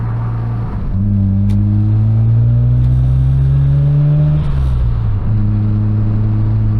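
A Mazda RX-7 accelerates hard from inside the car, its engine droning loudly as it rises through the revs, dropping with a shift and pulling again, with a brief hiss of a turbo blow-off valve and no talking.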